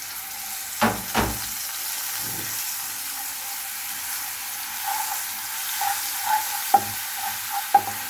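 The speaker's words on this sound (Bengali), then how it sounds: "এখানে পেঁয়াজ বাটাটা আমি ভালোভাবে একটু ভেজে নিচ্ছি।" Onion paste fries in mustard oil reused from frying fish, giving a steady soft sizzle with a few sharp clinks and scrapes of stirring; no one speaks.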